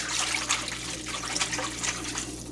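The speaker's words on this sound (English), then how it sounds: "Then take a whisk and just kind of whisk it in there." Chili seasoning powder whisked into liquid in a crock pot: a steady, close wet swishing and trickling with a quick repeating stir rhythm, continuous throughout with no talking.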